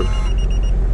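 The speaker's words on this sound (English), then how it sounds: "looks like we got ourselves a buzzer" At a guard booth where a truck is delivering to a Costco in Monroe Township, New Jersey, an electronic buzzer sounds in short tonal pulses over a heavy low engine rumble, brief and close.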